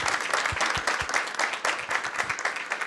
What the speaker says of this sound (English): So will you join me in giving her a round of applause?